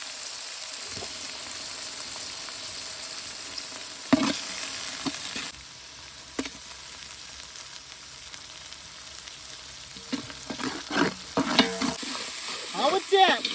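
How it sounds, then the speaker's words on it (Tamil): Food with curry leaves being stirred and sautéed in a hot pan: steady sizzling frying under repeated scraping stirs, growing busier and louder toward the end, with no talking. "நல்லா கிண்டு கிண்ட நல்லா மிக்ஸ் பண்ணு, நல்லா வதங்கணும்"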